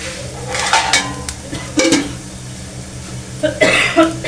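Someone coughs from chilli fumes while cooking a tempering, a few sharp close coughs over faint frying and utensil sounds.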